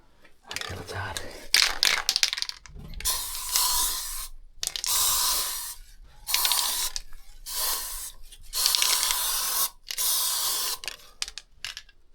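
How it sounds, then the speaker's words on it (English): Aerosol spray tin held sideways, giving several hissing spray bursts of a few seconds each, separated by short silences, close and fairly loud. "These tins are really made for spraying down, not sideways."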